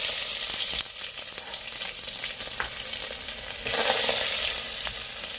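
Cumin seeds and onion frying in about two tablespoons of oil for dal, a steady bright sizzle with occasional stirring clinks, growing louder and hissier partway through, no talking.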